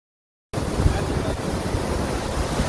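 Ocean surf at a beach rolls in after a moment of silence, a loud, continuous wash of waves with some wind buffeting against the microphone.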